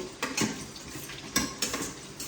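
Sliced onions frying in oil and ghee in a pan, with a soft sizzle under repeated scraping and clinking strokes of a spoon stirring against the metal.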